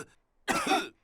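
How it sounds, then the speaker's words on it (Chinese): A single short cough from a Peppa Pig cartoon character, preceded by a brief quiet breath, close and clear with nothing else around it. "都被佩德罗的咳嗽传染了。"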